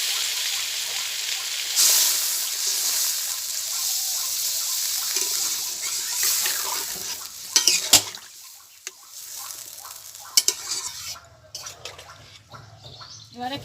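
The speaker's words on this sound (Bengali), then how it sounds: "এবার আমি জল দিয়ে দেবো।" Water poured into a cooking pot of egg curry, a steady rushing hiss lasting most of the clip, then trailing off into a few clinks and quieter handling sounds.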